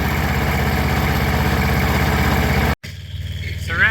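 A Deutz diesel fire pump engine for drip irrigation idles loud and close with a steady, rapid low thrum, then cuts abruptly to a quieter hum near the end.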